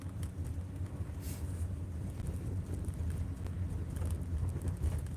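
A car cruising along a road, heading to a Bars filling station, giving a steady low engine and tyre rumble with buffeting wind noise throughout, no talk.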